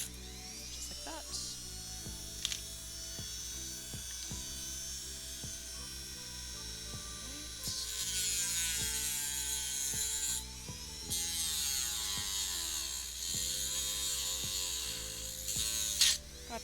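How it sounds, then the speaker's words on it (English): A Dremel rotary tool runs steadily with a high whine that rises and shifts in pitch as it bites into the work. Sharp clicks and knocks mark the tool being handled. "God bless this Dremel."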